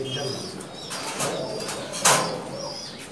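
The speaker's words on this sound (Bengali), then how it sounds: "সুন্দর সুন্দর কবুতর আছে, অনেক জাতের কবুতর" Pigeons of many breeds in a loft, giving soft flapping bursts and faint calls against a busy background murmur, with a sharp wing clap near the end.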